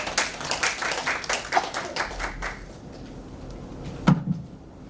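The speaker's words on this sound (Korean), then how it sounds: "박수 환영하겠습니다." A crowd at a theological conference claps to welcome a pastor to the lectern. Scattered clapping fades out over a few seconds, and a couple of sharp knocks follow.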